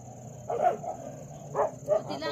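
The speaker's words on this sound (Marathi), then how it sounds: "काय बाबा कुत्र्याने कालवा लावला." A dog barks nearby outdoors, with a few short, separate barks spaced over a couple of seconds above a low background hum.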